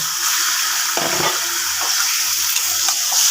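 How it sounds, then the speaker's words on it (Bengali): Marinated chicken frying in a pan with already browned onions, a loud continuous hiss and sizzle up close, broken by a few soft stirring scrapes. "এবার ভালো করে ভেজে নেব মাংসটা"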